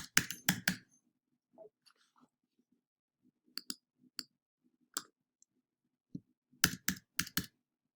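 Typing on a computer keyboard, quiet sharp key clicks arriving in short irregular bursts of a few strokes each, separated by brief pauses in an otherwise silent room.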